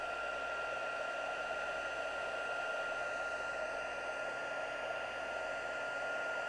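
A heat embossing tool blowing hot air in a steady, constant whoosh with a faint electric hum, loud and close, with no talking.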